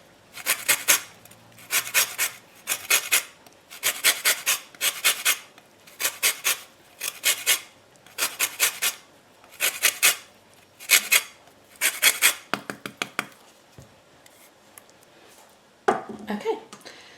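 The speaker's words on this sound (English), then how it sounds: "to make the flavour a bit more punchy, I'm going to add some lemon zest as well" Lemon zest is grated for blueberry muffins in a run of close, rhythmic rasping strokes, about one burst per second, fairly loud and separated by brief pauses. A few quicker scrapes come near the end.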